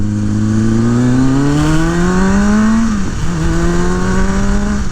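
A 2000 Kawasaki ZRX1100 motorcycle engine revs loud and close, pitch climbing steadily for about three seconds, dipping briefly, then holding a strong, even drone.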